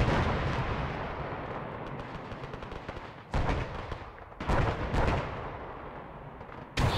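Grenade explosions in the Battle of Long Tan video game: sustained rumbling battle noise with several sharp, loud blasts spaced a second or so apart, no voices.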